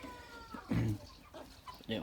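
A rooster and hens on a farmyard give short clucks and calls, close and fairly faint, with a voice speaking briefly among them.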